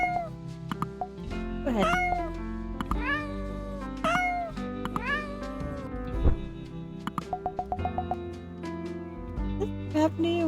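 A cat meows repeatedly in the game New Witch in Town, several short, close, pitched mews over soft background music, with a brief spoken phrase.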